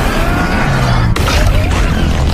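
A heavy crash as a skier slams into a creature in a sci-fi film scene, a loud booming impact midway through over dense, rumbling soundtrack noise.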